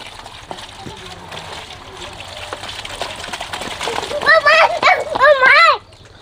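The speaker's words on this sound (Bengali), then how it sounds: "নতুন পানি দিচ্ছ যাতে মাছগুলো ভালো থাকে" Fresh water poured over freshly caught small native fish such as shing, with soft splashing and trickling under a voice, then a child's higher-pitched voice calling out close by near the end.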